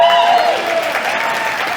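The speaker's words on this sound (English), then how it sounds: "let's hear a round of applause for your panel for the evening." Audience applause for the panel at a comedy roast, a short burst of dense crowd clapping with a tonal hum running through it, steady and fairly loud for under two seconds.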